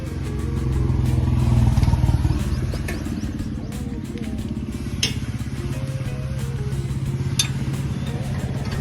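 A TVS auto rickshaw engine runs steadily on a test round, its close, loud rumbling drone rising to a rev early on and then holding a busy, rattling idle with a few sharp clanks.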